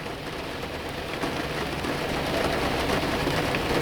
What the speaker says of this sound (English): It is raining, and it's been pouring rain almost all night long.